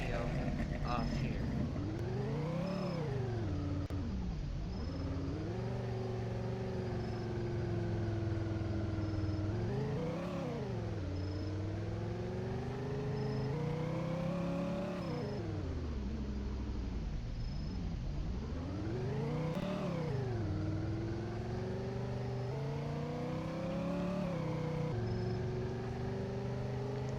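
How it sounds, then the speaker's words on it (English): A 1957 Chevlon Joile-Mode car engine in the Greenville video game hums steadily, rising and falling in pitch through repeated revs and gear changes, loud and continuous over the whole stretch. "Let's drive this car back to spawn"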